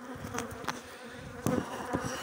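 Honeybees hum in a steady swarm around an open beehive being split in an apiary, the buzzing close and continuous, with a few sharp knocks against the hive.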